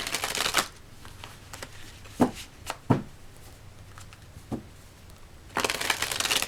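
Tarot cards are shuffled in two brisk riffling bursts at the start and end. In between, a few soft taps and card-handling sounds are heard close up.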